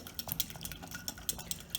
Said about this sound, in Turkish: bu unlu, limonlu karışımımızı güzelce karıştıralım